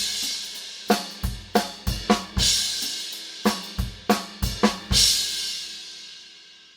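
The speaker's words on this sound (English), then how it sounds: "I could put a crash over here with the bass drum on the end, and it would sound like this." A jazz big band drum kit figure: a run of sharp drum hits in an uneven rhythm closing on a crash cymbal struck with the bass drum, the cymbal ringing out and fading at the end, played alone and close.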